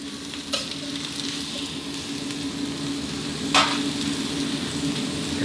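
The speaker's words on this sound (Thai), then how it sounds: "ผัดไฟแรงได้เลยนะครับ" Cabbage and minced pork stir-fried over high heat with a splash of water give a steady, close sizzle, with occasional scraping stirs and brief crackling flares and no talking.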